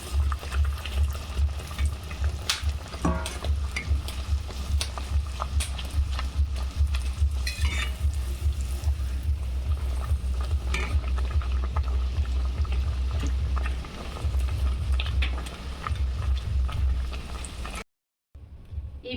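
Naan puri frying in a pan: a steady, fairly loud bubbling sizzle of hot oil with occasional clinks of a utensil, continuing for most of the time before a brief silence.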